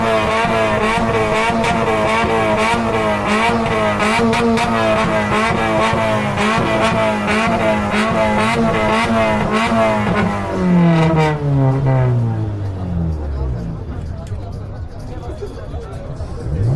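A car engine at a stance meet in Šurany revs hard for an exhaust decibel measurement, a loud sustained roar with harmonic whine that drops away as the revs fall, with people talking.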